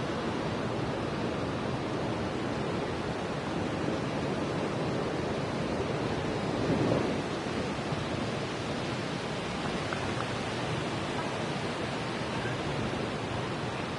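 Steady, broadband rushing noise fills the recording, like strong wind blowing continuously across a microphone, with a slight surge midway.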